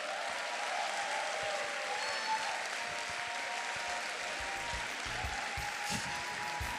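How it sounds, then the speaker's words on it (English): Audience applauding after an executive director's speech, a long steady wash of clapping heard from some distance, fairly faint, with a few thumps and a soft tonal hum underneath. "Keep clapping, keep clapping."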